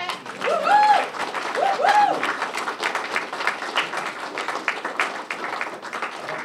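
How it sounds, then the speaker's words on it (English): An audience at a schoolhouse gathering applauds steadily, with a couple of voices calling out near the start over the rapid clapping. "it deserves another round of applause"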